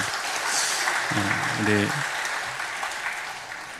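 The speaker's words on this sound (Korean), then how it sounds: "박수 한번 해주시죠." A church congregation applauds during a Sunday service, a dense continuous wash of clapping that fills the room. Someone speaks briefly over it.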